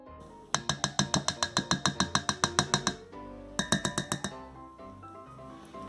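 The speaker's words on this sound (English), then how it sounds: "Just mix those up together, and then you will have a delightful waffle batter." Belgian waffle batter is mixed in a bowl, heard as a quick run of rhythmic clinking taps of a utensil against the bowl, a pause, then a shorter second burst, close and fairly faint.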